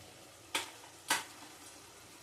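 A spice paste with Kashmiri chili powder, turmeric and salt is sautéed in a pan, giving two short, close stirring scrapes with a soft sizzle under a quiet background.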